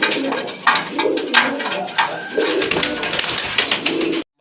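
Pigeons at a bird sale, including a Milligora red-bar pigeon, coo and rustle for several seconds. The sound is close and busy, with clattering and movement throughout, and it stops abruptly at the end.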